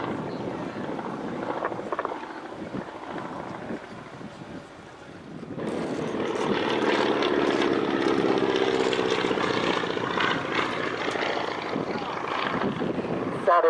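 An aircraft flies overhead at the Old Buckenham air show, a steady, loud engine drone that builds after a quieter windy stretch and holds near and strong, with wind buffeting the microphone.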